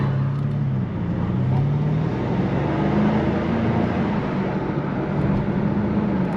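BMW M5 Competition under acceleration, its engine note rising and shifting in low droning tones through a sustained exhaust roar, steady and fairly loud from inside the car with no talk.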